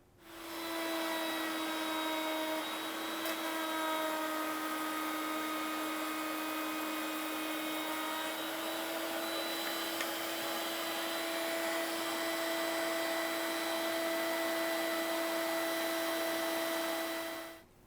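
Wood router with a router bit cutting through a board, a steady high-pitched whine holding constant for about eighteen seconds, close and loud with no talk.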